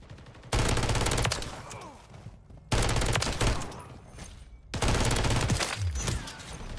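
Rapid-fire bursts from a Holger 26 in Modern Warfare III: three long, dense streams of loud automatic gunfire separated by brief pauses.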